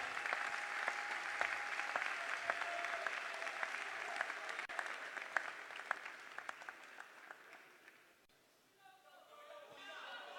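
Students and guests at an award ceremony applaud a prize-winning student. The clapping is moderate and fairly distant, with a few sharp individual claps standing out. It dies down around eight seconds, when a voice starts talking.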